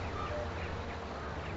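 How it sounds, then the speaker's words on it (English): Ducks quacking in Farming Simulator 22, steady close quacks over a continuous game ambience, no talking. "we're just watching the duckies"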